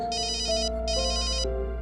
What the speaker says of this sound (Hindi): एक सेकंड, वो फोन आ रहा है।